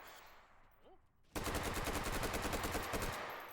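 Rapid, sustained automatic fire from a video game machine gun with a 100-round coffin magazine. The fire bursts in loudly after a quiet moment and continues as a dense, even stream of shots.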